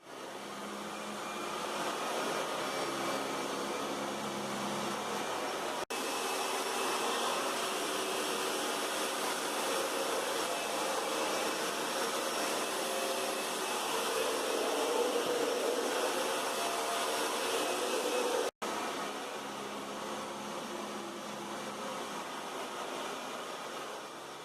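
A Dyson DC41MF upright vacuum cleaner's motor drones steadily and loudly with a broad airy roar, briefly cut once near the end before resuming.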